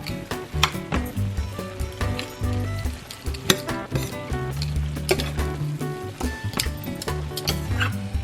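Pork giniling with a spoonful of sugar, stirred and frying in a pan, gives a steady sizzle and scraping under louder background music.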